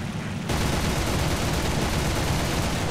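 Fw 190 A-5 fighter in War Thunder firing its guns in a dense, continuous burst that starts abruptly and roars loud and unbroken to the end, with no talk over it.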